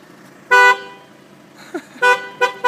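Car horn giving three short toots in a quiet, peaceful spot: a loud beep, then two more close together after a gap, near and clear with no talk over them.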